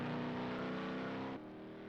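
Ford Bronco 4-wheel drive engine in the racing game Project Cars 2, a steady droning engine tone with strong harmonics that drops slightly in level near the end.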